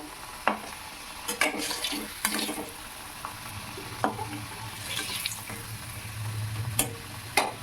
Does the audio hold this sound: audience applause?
no